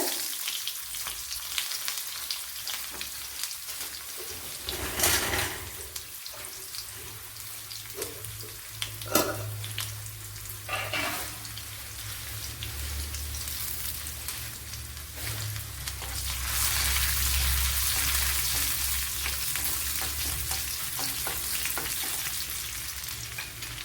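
Small shallots sizzling in hot oil with popped mustard seeds for a Kerala dry fish curry, a steady close crackle with occasional stirring clatter and a louder surge of frying toward the end, no talking.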